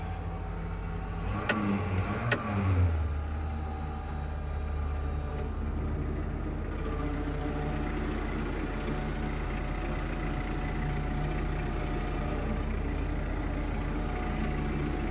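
An International 3388 2+2 Snoopy tractor's engine runs steadily as the machine drives slowly off a trailer, a continuous low rumble with a brief clanking burst early on before settling into an even drone.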